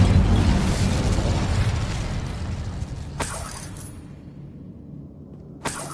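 Incendio fire spell cast in Hogwarts Legacy, a roaring, whooshing burst of flame that stays loud and steady for several seconds, with two sharp crackling bursts near the end.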